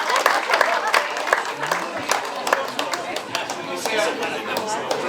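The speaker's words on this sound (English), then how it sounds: "A big round of applause for Οδυσσέα Χρυσούλα" Applause from an audience at a Greek community entertainment show in a Marrickville club, a steady patter of clapping throughout with people talking over it.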